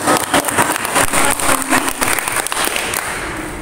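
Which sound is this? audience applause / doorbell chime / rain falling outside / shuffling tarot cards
audience applause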